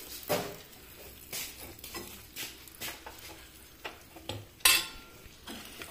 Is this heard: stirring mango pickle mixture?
yes